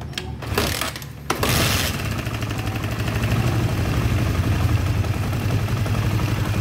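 A Honda CB150R motorcycle engine catching and settling into a steady close idle after a few brief bursts, running evenly to the end with no talk over it.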